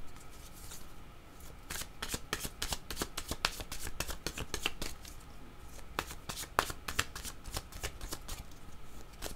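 Cards for a spiritual card reading are shuffled steadily by hand before one is drawn, giving a continuous quiet flutter of soft, crisp riffles close up with no talking.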